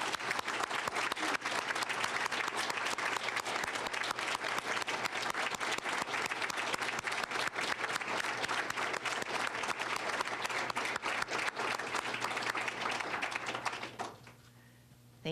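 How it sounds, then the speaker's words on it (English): Sustained audience applause at a Delta Pi Alpha awards banquet, a dense, even wash of many hands clapping that holds steady for about fourteen seconds, then stops abruptly into near quiet. "Let's give them all one more round of applause"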